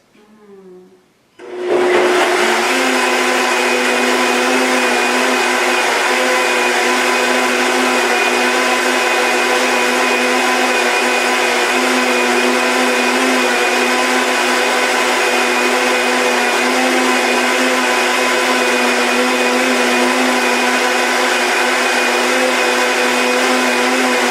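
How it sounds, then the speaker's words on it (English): A blender whirls a vegan raw Maca Mama malt milkshake. After a few quiet seconds the motor kicks in with a loud, steady high whine and churning roar that holds evenly for about twenty seconds without pause. "So our Maca Mama malt is now ready to be blended."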